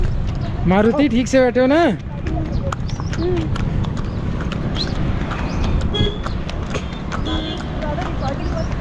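Mule hooves clip-clop along a mountain trail in the Solang Valley area of Himachal, a steady close clatter of steps with people talking over it and a brief vocal call near the start.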